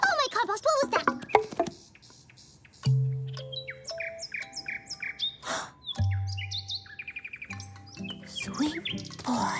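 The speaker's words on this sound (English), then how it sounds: "We heard a nightingale." A cartoon nightingale sings in a sweet forest, bright warbling trills and chirps in quick varied phrases over a soft music bed, with bursts of animated character voices and sound effects in between.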